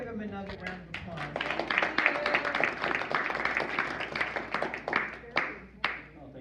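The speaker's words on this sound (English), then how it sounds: "Let's give him another round of applause." A meeting audience gives a speaker a warm round of applause, many hands clapping in a full, continuous rush that trails off into a few last claps, with voices talking underneath.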